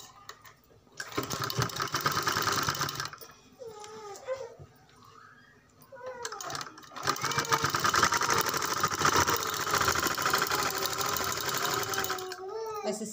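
A sewing machine stitches a salwar in close, loud bursts of rapid mechanical chatter, pausing between runs while someone speaks quietly, then resuming for a longer continuous stretch.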